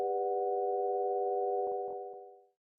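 A sampled note played through Granulator 2 in Ableton Live, a steady sustained tone holding for over two seconds before fading out, with a few soft clicks near the end.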